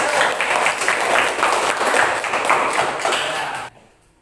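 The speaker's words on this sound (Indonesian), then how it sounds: "tepuk tangan buat kelompok" A classroom of students claps for a group, a dense, steady patter of hands lasting a few seconds before cutting off abruptly into near silence.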